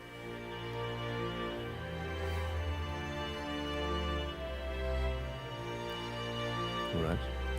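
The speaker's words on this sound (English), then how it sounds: "The strings make the harmonies," Orchestral strings play sustained, swelling harmonies in a classical arrangement of a Gustav Holst melody, rich and continuous throughout with no talk.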